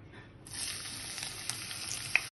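Green chilies drop into hot mustard oil, which bursts into a loud, steady sizzle after a brief quiet start and keeps crackling evenly, with a small clink near the end.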